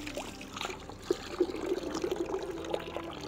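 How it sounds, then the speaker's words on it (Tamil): Water is pumped from a newly dug well in Jaffna, a soft uneven trickle and splash of flowing water, faint and continuous with small gurgling bursts. "தண்ணி அடிக்கிறோம்."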